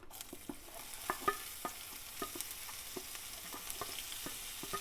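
Onion frying in a pan for dosa batter upma, with quiet, steady sizzling broken by a run of light spatula taps and scrapes.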